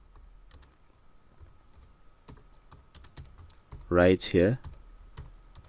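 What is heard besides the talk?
typing a headline on a computer keyboard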